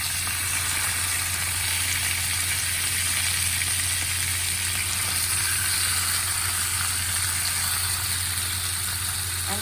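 Chicken pieces sizzle and fry steadily in a hot pan, a dense continuous hiss holding at an even level throughout with no voices, while a low steady hum sits underneath.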